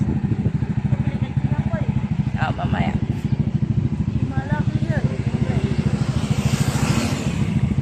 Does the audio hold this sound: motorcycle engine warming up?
yes